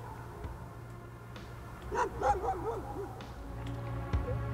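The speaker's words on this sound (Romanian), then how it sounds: "Așa, câinii ne înconjoară, sperăm că nu vom avea probleme." Dogs bark and yip around people outdoors on a full-moon night in Piatra Neamț, a short burst of barking rising in the middle against a steady low hum, with a few fainter yelps later.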